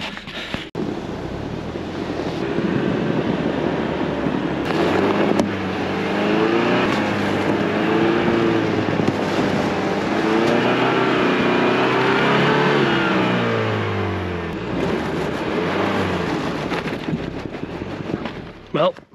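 A Ford Bronco's engine revs steadily off-road while the truck sits stuck, a loud sustained roar lasting most of the stretch with wind buffeting the microphone, rising and easing before cutting off near the end.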